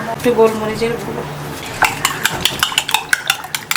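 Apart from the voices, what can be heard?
beating three eggs with spices in a bowl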